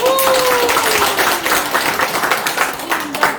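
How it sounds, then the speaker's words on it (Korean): Group clapping at a Korean middle school alumni meeting, a steady burst of hand claps that comes across as moderately loud, with brief voices audible alongside. "우리 먼저 민덕기 친구 박수 한번 주십시오."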